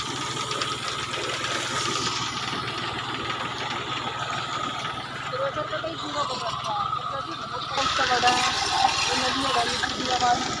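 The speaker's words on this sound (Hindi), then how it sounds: "ट्रैक्टर और मशीन है ये" A small tractor spraying in a sugarcane field runs steadily with a knocking, chugging rhythm, close by, while voices talk over it throughout.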